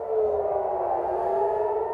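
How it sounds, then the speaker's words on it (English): Air raid sirens sounding in Israel during missile attacks, a steady sustained wail holding at one pitch, loud and continuous with no voices. "Air raid sirens sounding across Israel"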